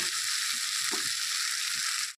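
Onion stalks fry in fish oil with a steady, dense sizzle from start to finish, a few soft stirring knocks showing through, before the sound cuts off abruptly at the end.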